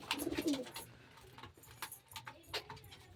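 Pigeons coo softly while bathing in a water dish, low throaty calls mixed with light splashing and clinks, fairly quiet and close.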